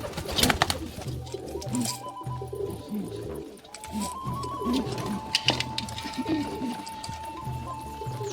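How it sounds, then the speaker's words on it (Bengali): Pigeons cooing in a home loft, low overlapping coos rolling on continuously at moderate distance, with occasional light knocks and a faint steady tone in the background. "এই দেখেন কবুতরগুলো কোথায় যাচ্ছে।"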